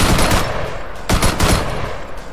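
Gunfire in the military shooter ArmA 3, rapid bursts of automatic fire cracking close and loud in quick clusters, with overlapping shots and brief gaps between volleys.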